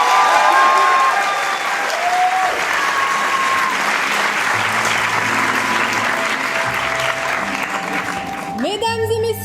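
An audience applauds at an improv comedy show at a festival, sustained loud clapping from a crowd that fills the whole stretch, with some tonal sounds and a brief burst near the end.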